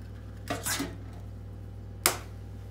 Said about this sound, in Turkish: 2 tane yumurta kıracağız.